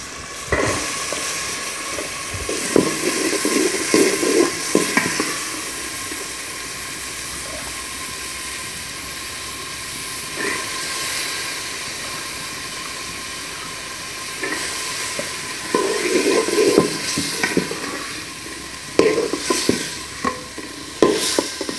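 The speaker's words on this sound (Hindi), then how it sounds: "अब हम सारी सब्जियों को धोकर डेगची में डालेंगे।" Washed vegetables sizzling in a pot (degchi) while being stirred, a steady hiss of frying with intermittent scraping and clattering of the spoon, close and continuous with no talk.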